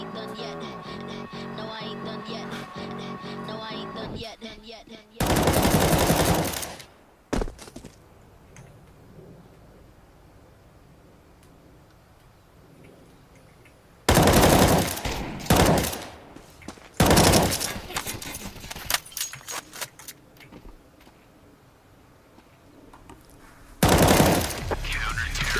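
Bursts of automatic gunfire from an enemy in Counter-Strike 2, three loud sustained volleys separated by quieter stretches with faint game noise.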